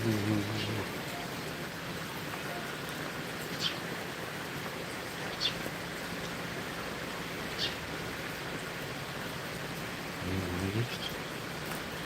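Steady rain falling in Japan, an even, continuous hiss with occasional louder drops, with brief voices at the start and near the end.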